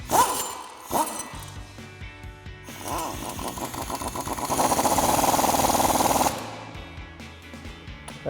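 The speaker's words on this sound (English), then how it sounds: "Now we can grab a 19mm socket on an impact" An impact wrench with a 19mm socket tightens a bolt on a Jeep Gladiator JT SkyJacker 2.5-inch lift suspension. A few metallic clanks lead into a loud, rattling hammering burst of about two seconds, close by.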